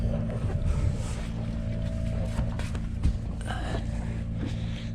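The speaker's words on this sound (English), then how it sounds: "Engine is on." A sailboat's engine runs steadily at anchor near Corfu, Greece, a constant low drone with harmonic hum under faint wind and water noise, no talking.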